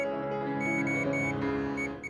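Multimeter beeping in continuity mode while its probes touch solder points on a Nintendo Switch board during a modchip repair, a steady faint electronic tone lasting about two seconds.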